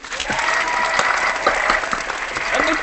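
Live crowd applauding after a singer-songwriter's performance on a news show, steady dense clapping with a few scattered cheers throughout, fairly loud and sustained.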